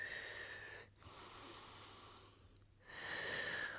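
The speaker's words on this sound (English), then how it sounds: "Inhale through the nose and exhale through the mouth." Slow breathing during a beginner's Pilates workout, in through the nose and out through the mouth, heard as faint, airy, sustained breaths separated by short pauses.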